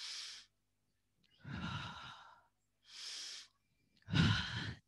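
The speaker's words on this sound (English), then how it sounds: "Deep breath, and in a rhythm, 5 seconds in, hold the breath, breathe out for 5 seconds." Slow, deep breaths taken at a steady pace for relaxation: two long, airy inhales alternate with two fuller exhales, each lasting about a second, close to the mic and with quiet pauses between them.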